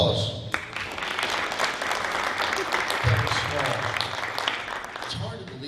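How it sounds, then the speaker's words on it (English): A crowd claps steadily through a round of applause at a high school hall of fame induction ceremony. The clapping is dense and unbroken from start to finish, with faint voices mixed in. "Another round of applause."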